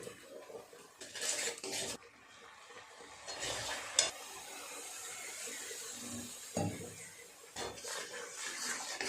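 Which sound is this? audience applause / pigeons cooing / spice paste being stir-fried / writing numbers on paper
spice paste being stir-fried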